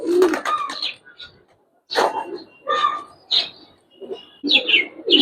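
Giribaz pigeons of a palla-line breed coo and chirp in a loft, soft repeated calls in short bursts mixed with nearby voices talking.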